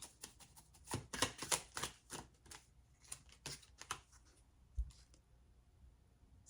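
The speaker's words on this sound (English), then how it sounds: "I read as I shuffle" Tarot cards being shuffled by hand in a quiet room: a quick run of soft riffling snaps and flicks in uneven bursts, then a few isolated taps and a dull thump.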